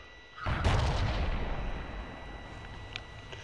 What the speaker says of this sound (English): And I take a blind shot there